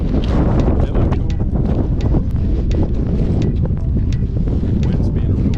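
Strong, steady wind buffets the microphone outdoors among abandoned buildings in the Rhyolite ghost town, a loud continuous roar and rumble throughout.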